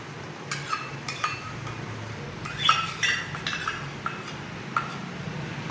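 Chicken and yogurt being stirred together on a tawa for a tawa chicken and egg dish, with scattered metallic clinks and scrapes of a spoon against the pan, close and moderately loud, with no talking.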